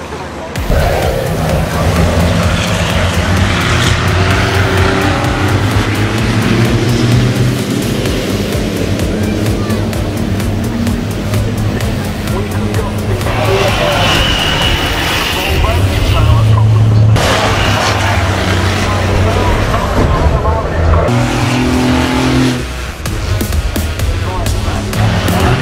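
Racing trucks roaring around the track at Donington Park during a truck show, a dense continuous engine drone with loud passing surges and rumbling throughout.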